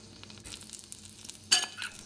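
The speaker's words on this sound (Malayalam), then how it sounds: "ഇനി അതിലേക്ക് കടുക് വറുത്തത് ഇട്ട് ഇളക്കണം" Tempered mustard seeds are stirred into salted curd for a bitter gourd kichadi. A quiet, soft stirring is broken midway by a brief, sharp hiss and crackle.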